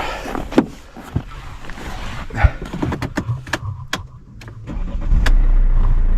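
A Mercedes E-Class W212 is started in snowy conditions: a few scattered clicks and knocks from inside the car, then the engine catches and settles into a steady low rumble near the end, heard close up without speech.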